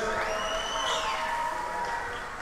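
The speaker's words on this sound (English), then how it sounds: "Let's give them a round of applause. Make some noise." A crowd at an Upstate Dragons game cheers, whoops and shouts for the team's dance squad, a loud, continuous roar of many voices with shrill calls rising over it, fading slightly at the end.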